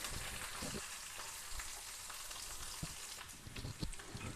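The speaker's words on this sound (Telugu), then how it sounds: "ఉల్లిగడ్డలు కూడా ఇందులోకి వేసేస్తున్నాం." Chopped onions frying in hot oil with tempering spices for a Telugu brinjal bajji curry, a steady dense sizzle with occasional crackles and pops, close and continuous throughout.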